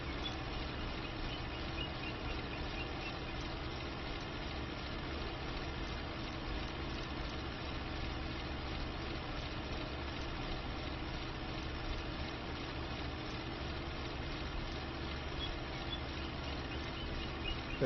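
A tractor engine drones steadily with a low, constant rumble during hay making on uneven farm ground in Farming Simulator 25, holding an even level throughout with no breaks.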